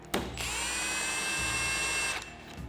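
A power tool tightens a bearing puller on a Polaris RZR XP Turbo transmission, a sharp knock followed by a steady high-pitched whine lasting about two seconds that stops cleanly, close and fairly loud, no talking.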